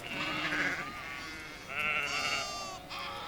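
Sheep and lambs grazing in a vineyard bleat repeatedly, several overlapping calls of differing pitch sounding close and moderately loud with no talk.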